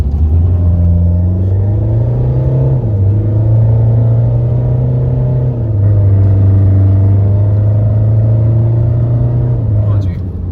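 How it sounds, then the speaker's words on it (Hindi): A Mahindra XUV500 accelerates hard from standstill in a 0-100 test, its loud engine climbing in pitch through several gear changes with brief dips between shifts, rumbling close throughout. "तो third 0 to 100 AC of, traction on, doing in 3"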